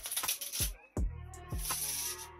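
Playing cards are riffled and shuffled in a few quick bursts, close and crisp, with brief pauses between them.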